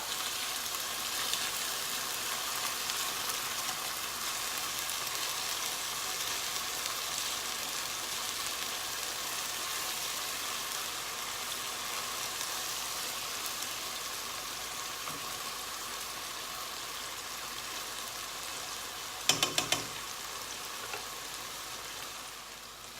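Pork loin steaks frying in a pan, a quiet, steady sizzle and crackle running continuously, with a short burst of clattering handling noise near the end.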